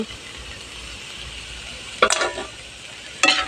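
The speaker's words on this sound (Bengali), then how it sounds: "এখন আমি চিংড়ি মাছগুলো ভেজে নিব।" Shrimp sizzling as they fry in a pan with a little salt, a steady low hiss punctuated by two sharp scraping stirs near the end, no talking.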